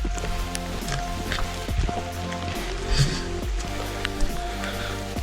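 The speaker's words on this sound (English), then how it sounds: "And it's raining again." Steady rain pattering on a tent or ground at a wild campsite in the Peak District, a constant close hiss with scattered louder drops throughout, no talking.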